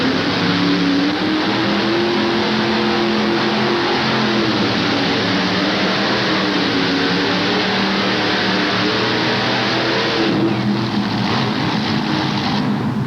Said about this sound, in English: The throttle hung wide open on him.